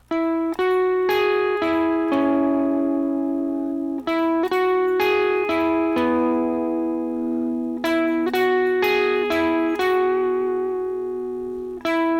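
Electric guitar plays repeated chords barred across three strings in a steady pattern, each strum ringing out cleanly and sustaining, loud and close with no talking.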